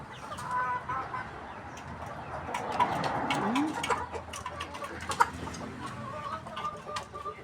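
Chickens cluck and murmur nearby in a busy farmyard, with a rooster-like call and scattered bird chatter over a soft background hum.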